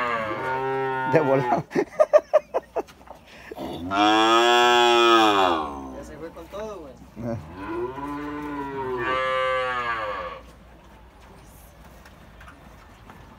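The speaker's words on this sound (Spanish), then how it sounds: "Están todas estas bonitas y hermosas vacas." Dairy cows low in two long, loud moos, one after the other, with brief talk and some clattering knocks just before the first call.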